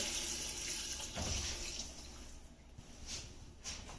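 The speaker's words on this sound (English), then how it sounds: "now I'm going to add the 6 cups of stock" Stock pours into a pot of roasted vegetable soup, a soft running splash that swells briefly, then thins into lighter trickles and drips, fairly quiet and close.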